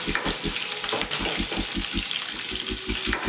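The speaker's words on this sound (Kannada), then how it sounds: "ಹಸಿಮೆಣ್ಸಿನ್ಕಾಯಿ ಸ್ವಲ್ಪ ಸಿಡ್ದಂಗೆ ಆಗುತ್ತೆ" Green chillies fry and sputter in hot oil in a pan, a steady close sizzle broken by rhythmic pops and crackles throughout.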